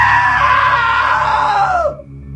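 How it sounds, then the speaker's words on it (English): A long, loud scream in What Remains of Edith Finch rises, holds, then slides downward and cuts off abruptly, leaving a low background hum. "Now that was a great scream."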